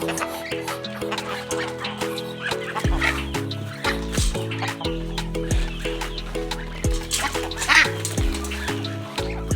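Ducks and turkeys call together at close range while being given fattening feed, a steady overlapping stream of clucks and quacks with faint voices in the background.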